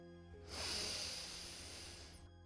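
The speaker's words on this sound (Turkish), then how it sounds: "Burnundan derin bir nefes al." A slow, deep inhalation through the nose during a guided meditation, heard as a soft, airy hiss that swells and fades over about two seconds, close and quiet with no talk.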